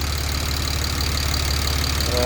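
A BMW 135i with an N54 engine and a newly installed downpipe idles close up with a steady, throbbing low rumble and a faint pulsing exhaust note, continuous and loud, with no exhaust leaks audible.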